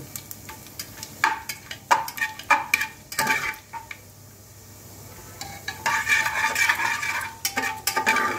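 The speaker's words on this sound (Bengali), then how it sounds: "জিরেটা একটু ভাজা হবে।" Cumin seeds crackle and sizzle in hot oil, with scattered sharp pops and a steady frying hiss building toward the end.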